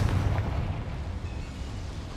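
Bombarda and Confringo explosion spells go off in the Hogwarts Legacy video game, one deep booming blast with a rumbling decay that fades into a low tail.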